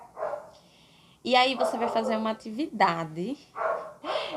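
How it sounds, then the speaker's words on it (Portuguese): A neighbor's dog barking in several short bursts, fairly close and loud, interleaved with someone speaking. "Você vai escutar o cachorro da minha vizinha latindo."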